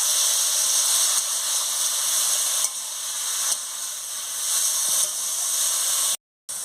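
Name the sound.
turnip frying in hot oil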